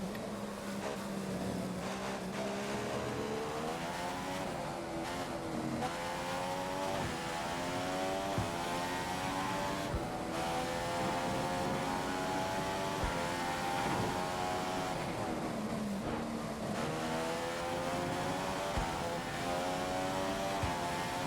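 Formula 1 race car engine in the F1 2015 racing game, a steady high-pitched whine with rising and falling harmonics as it shifts through gears, loud and continuous with no talking.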